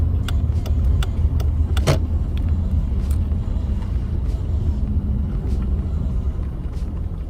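Car interior rumble as the vehicle drives slowly looking for a parking spot at John Pennekamp Coral Reef State Park in Key Largo, a loud steady low road drone with a few light clicks and knocks.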